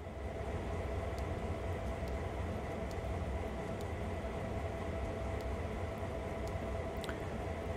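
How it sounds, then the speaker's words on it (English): Locomotive in Train Sim World 2 starting up, a steady low diesel rumble with a constant mechanical hum and occasional faint clicks, close and unbroken with no talk. "we're going to start this locomotive up as well."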